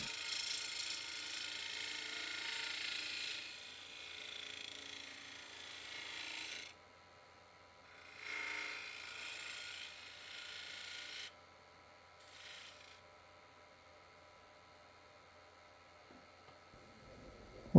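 A wood lathe turning a birdhouse as a spindle gouge cuts, a gritty whirring hiss in several bursts of a few seconds each with quieter gaps between them, fading to near silence at the end.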